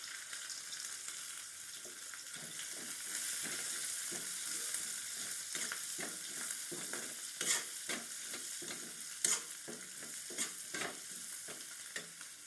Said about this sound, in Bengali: এগুলো আমি একটু ভেজে নেব।